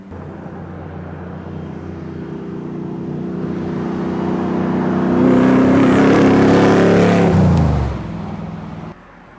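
A 1985 Ford F-150 truck engine revs up gradually, its pitch climbing to a loud peak, then drops off abruptly as it settles back to idle; nearby, no voices.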